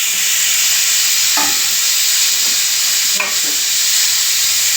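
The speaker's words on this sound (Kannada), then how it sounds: "ಈಗ ನೋಡಿ ಅದರೊಳಗಡೆ ಹಾಕೊಳ್ಳೋಣ ಈರುಳ್ಳಿ, ಮೆಣಸಿನ್ಕಾಯಿ" Chopped onions and green chilies fry in hot oil in a pan, giving a steady close hiss and sizzle with a couple of brief stirring scrapes and no talk.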